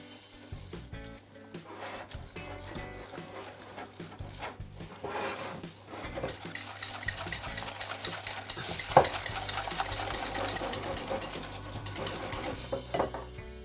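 An egg is mixed into hazelnut powder in a bowl for an apple tart, quiet at first, then brisk rhythmic whisking and scraping that grows louder and busier, close and without talk.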